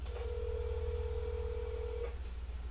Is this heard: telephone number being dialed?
yes